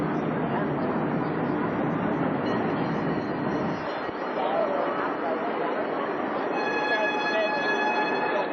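A train rumbles steadily nearby, then fades and is joined by a high, ringing electronic tone, with voices talking over it throughout.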